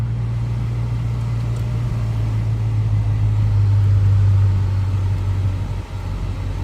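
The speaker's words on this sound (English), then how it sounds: "The exhaust is stock, but it sounds good." A 2023 Dodge Challenger R/T V8 on its stock exhaust rumbles at idle, a deep steady burble with a brief swell in the middle before settling back, loud and close with no talking.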